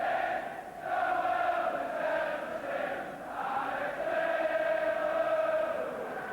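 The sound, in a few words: big noisy football crowd, Liverpool v Watford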